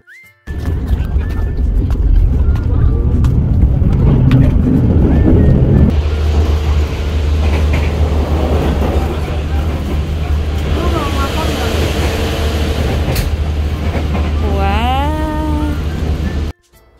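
Steady low rumble and rattling of a moving passenger train carriage near the dining car, with a constant hum throughout and occasional squeaks and clatter over faint background noise.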